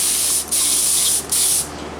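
Hissing bursts of a spray gun laying homemade shellac, mixed from flakes, onto a Guild D-50 acoustic guitar: two loud, close sprays broken by a short pause, then a quieter tail, with no voices.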